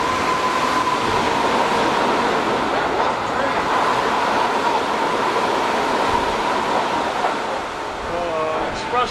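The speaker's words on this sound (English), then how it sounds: "Express train just went whizzing by us." An express train rushes past close by in Japan, a loud continuous roar with a whining tone and rattling wheels, steady for several seconds.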